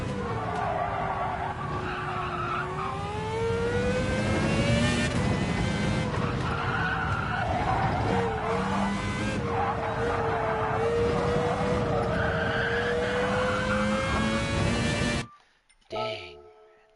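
Racing video game car braking hard into a corner, tires skidding and squealing in a long, loud, wavering screech over steady engine roar, ending abruptly near the close.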